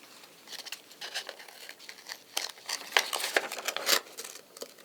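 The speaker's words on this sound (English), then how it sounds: "Let's try cutting along the lines that I've got here." Scissors cut paper along drawn guide lines in a run of crisp, uneven snips and crunches, close and fairly quiet, with no talking.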